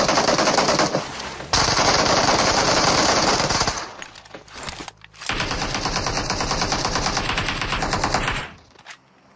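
Rapid automatic gunfire in a shooter video game, loud and nearly continuous in two long sustained bursts with a brief lull between them, heard alone without talk.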